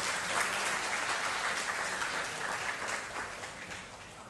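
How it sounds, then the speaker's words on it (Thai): Audience applause for a guest lecturer at a special lecture on community forest management, a steady, fairly faint wash of clapping that holds evenly and thins slightly toward the end. "ขอเสียงปรบมือให้คุณอมรเทพครั้งนะครับ"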